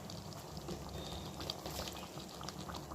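Mutton fry simmering and bubbling in a pan as its water cooks down, a steady close boiling patter with soft pops throughout, no talking.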